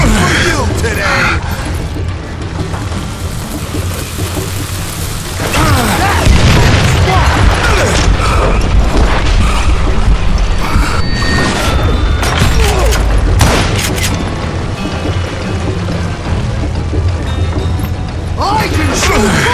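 Dynamite blasts in the Western shooter Call of Juarez Gunslinger, deep booming thuds rolling one after another over dense gunfire and crashing debris, loud and close, with voices shouting over the chaos.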